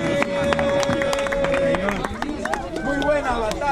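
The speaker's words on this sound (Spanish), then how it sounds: "¡Aplausos," Crowd at an outdoor rap battle in a market in León, Guanajuato, clapping and cheering in a dense burst, with voices and chatter mixed through the applause.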